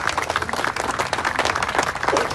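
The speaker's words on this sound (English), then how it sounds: "Give yourselves a round of applause and thank you for your presence" An outdoor crowd gathered on a sunny harbor waterfront for a groundbreaking ceremony applauds, with a loud, dense, continuous patter of many hands clapping close by.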